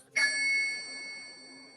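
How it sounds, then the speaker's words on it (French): One clear church bell strike rings out after a short quiet moment, its bright tone lingering and slowly fading. "C'est le son de la cloche."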